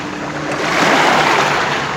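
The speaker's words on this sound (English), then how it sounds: "Waves are coming in from the boats off their wake" Small waves from passing boat wakes lap steadily against the rocky shore of Lake Monroe, a continuous close wash of water with no talk.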